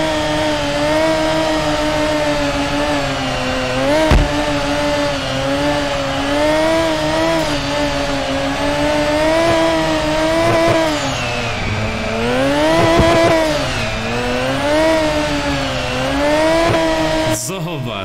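Car engine in the Drift21 driving game revs continuously while drifting through a multi-level parking structure, pitch rising and falling with throttle, loud and close, with someone talking over it.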